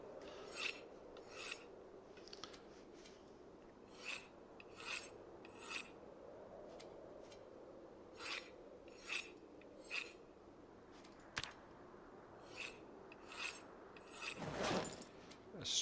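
Repeated rasping crafting strokes, snapping flint and making axes in Project Zomboid. The short scrapes come in an irregular rhythm over a faint steady hum, with one louder crunchy burst near the end.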